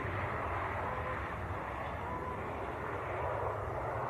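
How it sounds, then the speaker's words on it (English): A Jet2 Boeing 737-300 airliner from Malaga at an airport, a steady, fairly distant broadband engine roar holding level throughout with no talk. "So that is Jet2 from Malaga. Another oldie, 737-300."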